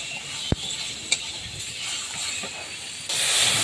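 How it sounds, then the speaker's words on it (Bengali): Sundarban crabs frying in a pan while being stirred: an even, close hiss of hot oil broken by a couple of sharp utensil clicks, swelling louder near the end. "এরপর কাঁকড়াগুলোকে আমি দিয়ে দিলাম, দিয়ে আমি নাড়াচাড়া করতে থাকবো।"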